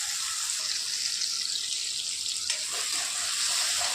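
Green chillies, seven or eight of them, sautéing in a pan with onion during Maharashtrian vegetable cooking, giving a steady soft hiss that runs unbroken and close throughout, with no talk.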